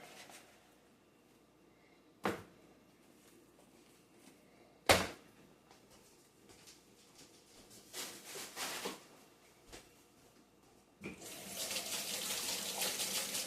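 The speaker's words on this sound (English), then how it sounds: "Wash my hands since I touched raw meat." A kitchen faucet runs while hands are washed after handling raw chuck roast. A few scattered knocks and clatters come first, then the water gushes loud and steady at the end.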